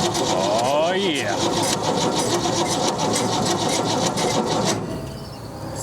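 An abandoned 1965 Ford Mustang, left 30 years in a junkyard, cranks over with a steady, loud rhythmic churning from the starter for about five seconds, with a voice briefly heard over it.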